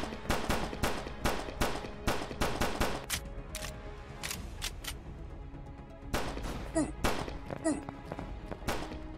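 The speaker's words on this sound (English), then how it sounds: "if the visuals aren't a submachine gun, it's a rifle now. It just automatically shoots when you hover over the dude." Automatic rifle fire in a Vice City-style shooter game, rapid bursts of sharp shots in close repeated volleys with a short pause, then more scattered shots, with talk mixed in.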